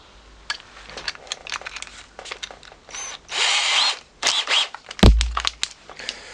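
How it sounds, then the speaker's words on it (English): Short rattling bursts of a cordless drill fitted with a 10mm flat bit, ending in a louder whirring spell and a sharp knock, close by with no talking. "So 10mm flat drill going into the cordless drill."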